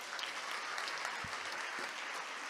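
A church congregation applauding, a dense, steady wash of clapping from many hands filling the space without a break.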